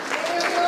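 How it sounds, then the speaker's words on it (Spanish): Brief applause from a church congregation during a Spanish-language sermon, a short burst of clapping in a reverberant hall. "Aplaude ahora si quieres."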